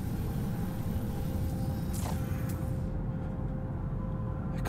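A gravitational superstorm on a planet in the video game No Man's Sky, a steady, dense low rumble with a constant hum running through it and a brief swishing sweep midway, with no talk over it.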